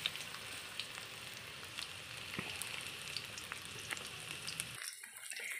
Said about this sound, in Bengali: এই যে বন্ধুরা এক পাশটা ভাজা হয়ে গেছে, এবার আর এক পাশটা উল্টে দিয়েছে ভাজার জন্য।